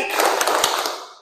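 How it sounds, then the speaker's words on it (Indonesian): Students in a mechanical engineering class clap hands together in a concentration exercise, a short burst of a few quick claps in a room that fades out. "Tepuk tangan 3 kali"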